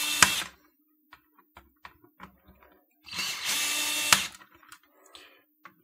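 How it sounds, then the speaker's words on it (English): A power screwdriver backs screws out of a homemade keyboard's circuit board in two short bursts of whirring and ratcheting, each followed by scattered light clicks and taps as the loosened screws and parts are handled. "remove all these screws."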